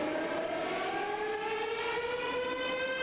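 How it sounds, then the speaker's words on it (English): A town's noon siren wails continuously from a distance, its tone sliding slowly upward as it blasts alone. "Within seconds of our starting to dig, the noon siren began to blast away."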